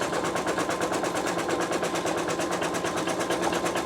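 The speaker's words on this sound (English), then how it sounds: "And we'll go ahead and continue stitching" A sewing machine stitches fabric and batting held in a Sew Tech PA116M magnetic embroidery hoop, a fast, even, rattling needle pulse running continuously up close with no voices.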